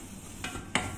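Butter and flour roasting in a pan give a faint, steady sizzle, broken by two brief stirring scrapes near the end.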